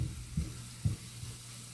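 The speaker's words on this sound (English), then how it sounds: "Add bacon bits and some garlic powder. Cook it down" Bacon bits with mushrooms and onions cooking down in a pan, a soft low sizzle with a few gentle stirring bumps, quiet and close with no talking.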